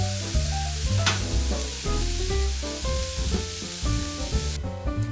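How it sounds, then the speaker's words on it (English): Breadcrumbs stirred into a sizzling pan over low heat after sautéed mushrooms, a close, steady frying hiss with scraping stir strokes, heard alone without any talk. "Turn heat to low and stir in breadcrumbs."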